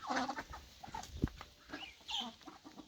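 A rooster and hen make close, uneven clucks and short throaty calls in a few bursts, with chicks or other birds faintly around them.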